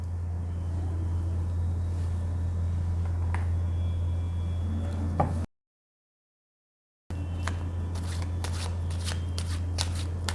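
Tarot cards are shuffled by hand in a quiet room, a soft continuous riffling that stops for a short silent gap and then resumes with sharper flicks and snaps, close up and with no voices.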